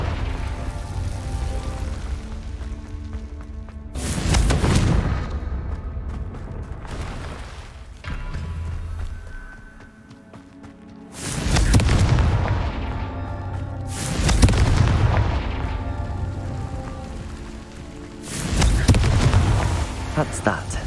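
Confringo spell explosions in Hogwarts Legacy land as several loud, broadband booms spaced a few seconds apart, each with a rumbling tail, between quieter stretches of game ambience.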